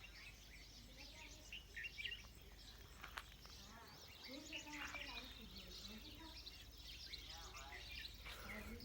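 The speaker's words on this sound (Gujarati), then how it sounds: "અત્યારમાં પક્ષી બોલે સાંભળો" Birds call and chirp outside a house in the countryside, with a steady chorus of varied tweets and warbles close and far, spread across the whole stretch over a low outdoor hum, with faint background voices at times.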